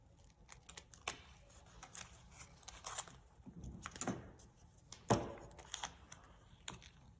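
Scissors trim a small piece of plywood while marking out headphone parts: quiet, irregular snips and crisp clicks come in uneven bursts, with a sharper cut near the end and no speech.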